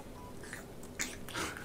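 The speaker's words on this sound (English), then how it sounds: "As it's munching on my face." A small creature in the video game Animal Crossing munching, giving faint, soft chewing bites with two brief louder bursts over quiet background noise.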